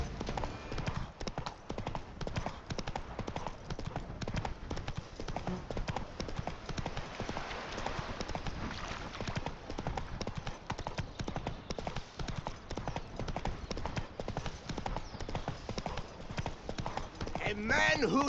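Roach the horse galloping in The Witcher 3: Blood and Wine, heard as rapid, continuous hoof clip-clop at an even pace throughout, with game sound layered over it and speech mixed in.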